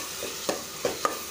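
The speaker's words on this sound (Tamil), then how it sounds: "நல்லா வதக்கிக்கலாம்." Salted tomatoes sautéing in a pan hiss steadily close by, while three quick spatula scrapes land at regular intervals.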